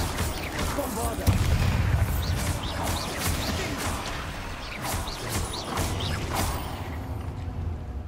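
Repeated Bombarda blasting spell explosions in Hogwarts Legacy, a string of loud bursts and crashing impacts over sustained battle noise, with a voice speaking over the action.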